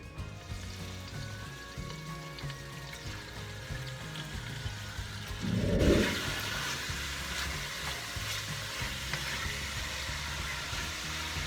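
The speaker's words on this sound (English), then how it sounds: "I'm searing the meat now so I can get it ready" Beef searing in hot olive oil in a pot gives a steady sizzle throughout, with a brief louder burst of crackling near the middle as the meat settles in, and no voices.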